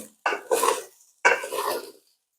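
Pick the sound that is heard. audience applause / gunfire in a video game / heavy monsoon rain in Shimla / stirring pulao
stirring pulao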